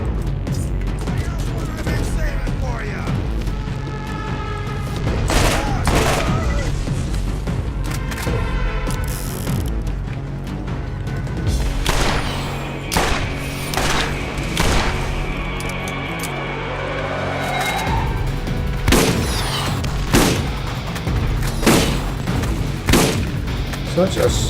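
Repeated shotgun blasts from a slow-cycling shotgun in Borderlands, fired at a steady, unhurried pace with mechanical reload clacks and other combat noise in between, loud and continuous throughout.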